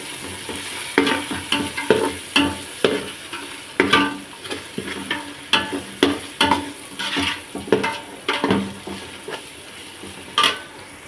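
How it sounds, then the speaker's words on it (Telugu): A spoon stirs cashews and coriander into coconut milk rice in a hot pan, making a rhythmic series of scraping strokes over a soft continuous sizzle. "కొంచెం కొత్తిమీర వేసి ఒకసారి మిక్స్ చేసుకుందాం"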